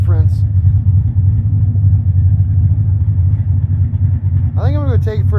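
A 1982 Mustang GT with straight-through mufflers idles steadily with the car on the ground, a deep, even low rumble running throughout, while someone talks over it near the end.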